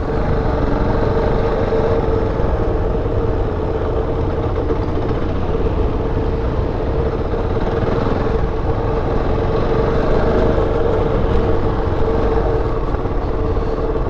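A KOVE 450 Rally motorcycle engine drones steadily on an enduro track, a continuous mid-low rumble with mild fluctuations and no clear revving peaks, heard alone without talk.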